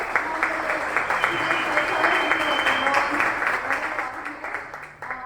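Applause from a storytelling-night audience rings out for a storyteller, a close, full round of clapping that holds steady and then begins to taper near the end.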